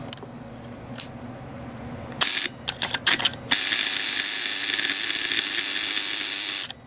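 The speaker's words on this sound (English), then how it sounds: "So we have here a relay driving an ignition coil." A relay-driven ignition coil fires high-voltage sparks from a pulsed DC oscillator circuit, giving a few short crackling bursts and then a long steady buzzing rasp that runs loud and close for several seconds before cutting off.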